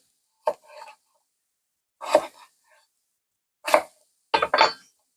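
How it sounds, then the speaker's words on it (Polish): Knife cutting potatoes into thick cubes on a cutting board for cabbage soup, four sparse, close, crisp chops spaced about a second or more apart in otherwise quiet surroundings. "Ziemniaki kroję na dość grubą kostkę."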